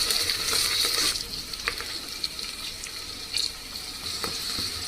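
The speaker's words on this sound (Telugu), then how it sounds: "మనము శనగపప్పుని ఒక 5 మినిట్స్ వేగించాక అప్పుడు మనము క్యాబేజ్ కూడా వేసేసుకోవాలి." Chana dal, curry leaves and green chilies frying in a pan for cabbage masala fry, a steady close hiss of oil with brief stirring scrapes and no voices.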